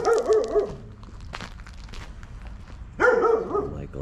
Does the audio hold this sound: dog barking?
yes